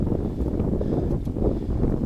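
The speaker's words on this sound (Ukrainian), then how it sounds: "Ще й вітер трошки такий, знаєте, нехороший." Steady, low wind noise rumbling and buffeting across the whole stretch on the shore of the Tylihul estuary, broadband and constant with no voices over it.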